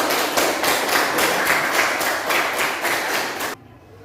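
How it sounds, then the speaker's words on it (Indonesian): Applause from a classroom audience after a group presentation, steady dense clapping filling nearly four seconds before cutting off abruptly. "beri tepuk tangan untuk kelompok 1"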